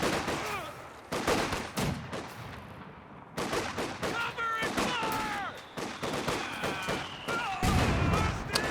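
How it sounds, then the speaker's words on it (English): Mortar and gunfire in a Company of Heroes 2 battle: repeated sharp shots and thumping blasts in irregular bursts, moderately loud, mixed with battlefield effects and voices. "Decent connection there from the mortar."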